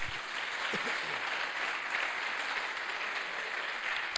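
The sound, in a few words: congregation applause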